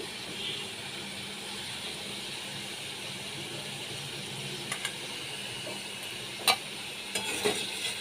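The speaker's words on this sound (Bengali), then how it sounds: "ছোলা কচু দিয়ে আমি ভালো করে কষিয়ে নিচ্ছি" Chola kochu taro pieces frying with spices in hot oil, a steady low sizzle under occasional sharp clinks and scrapes of a stirring spoon against the pan.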